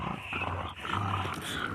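Dogs tussling over sticks in play, continuous throaty growling up close with a slight dip partway through before the snarling resumes.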